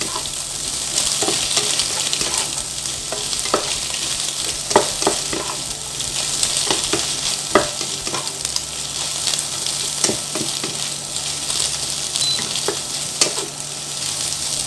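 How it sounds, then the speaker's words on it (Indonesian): Shredded cabbage stirred in a frying pan, a steady bright sizzle running throughout with repeated sharp scrapes and clicks of the utensil against the pan, close and fairly loud with no talking. "saya masukkan kolnya teman-teman sambil diaduk rata ya"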